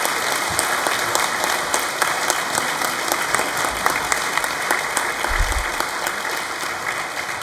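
Audience at a college graduation ceremony for digital arts and technology students giving a round of applause: a large hall full of steady, sustained clapping that holds evenly for several seconds.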